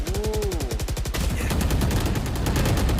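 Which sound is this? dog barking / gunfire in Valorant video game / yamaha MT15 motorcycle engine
gunfire in Valorant video game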